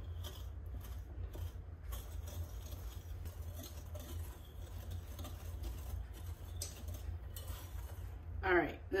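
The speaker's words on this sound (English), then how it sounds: "And you want to whisk that together." Salt and flour are whisked together in a bowl, giving soft, continuous scraping and clinking throughout, fairly quiet, with a louder clatter near the end.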